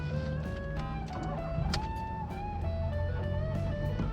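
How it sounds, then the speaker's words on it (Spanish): A Volkswagen Gol car engine, just started, runs steadily at a low idle nearby, with some faint whining and clicking tones over the hum. "Ahí está arrancado el carro, como pueden ver."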